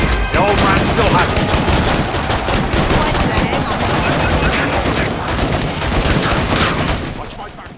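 Dense, continuous gunfire from Killing Floor 2, rapid overlapping automatic shots at high, steady volume, easing off in the last second.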